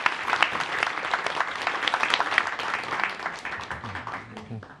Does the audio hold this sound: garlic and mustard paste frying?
no